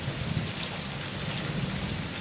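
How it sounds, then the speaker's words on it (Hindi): Heavy rain falls steadily and densely during the monsoon season, a loud, even wash of drops with no pauses, with a soft low rumble beneath it. "2 दिन से लगातार बारिश हो रही थी"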